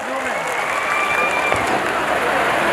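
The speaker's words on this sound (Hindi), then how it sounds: "एक बार और जोरदार ताली बजाइए।" Sustained audience applause at a stage event in Saidpur, Ghazipur, forming a steady dense wash of clapping under a voice, close and fairly loud throughout.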